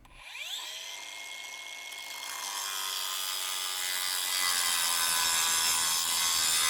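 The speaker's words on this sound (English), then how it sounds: "the weight of this grinder really helps get that wheel down into the material without having to push down on it too hard" A RIDGID 18V OCTANE brushless 7-inch angle grinder cuts into concrete with a loud, harsh, continuous grinding whine. The sound grows stronger and brighter as the wheel sinks deeper, with no talking.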